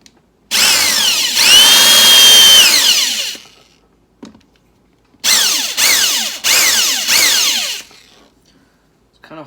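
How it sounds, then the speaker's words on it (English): A 16 gauge roll crimper driven by a power drill spins against a shotgun shell, a loud close whirring with a long first run followed by three shorter bursts separated by brief pauses. "Roll crimper I'm using, 16 gauge Forest Camping."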